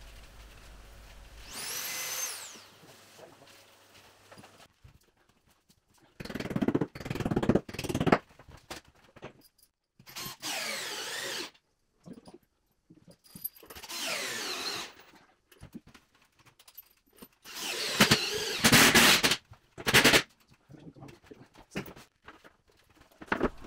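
A power drill bores holes into a wall while a climbing wall is being built, in several loud bursts of whirring separated by quieter pauses, with no talking.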